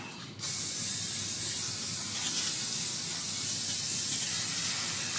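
Brake cleaner sprays in a long, steady, close hiss onto the grease of a Chevrolet Equinox's rear brakes, holding loud and unbroken after a brief start.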